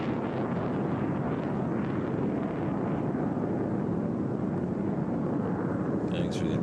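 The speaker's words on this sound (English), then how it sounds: "Now in with the afterburner, climbing steeply away." An HAL Tejas fighter jet climbing steeply on afterburner at the Bahrain Air Show, a loud continuous roaring rumble with wind buffeting, under a commentator's voice.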